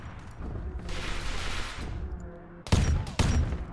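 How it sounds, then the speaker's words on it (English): Sustained automatic gunfire in the Arma 3 Warhammer 40k mod, a dense rattling stream of shots that gives way to two loud, sharp bursts of fire near the end. "That Stek's firing machine gun up into that one"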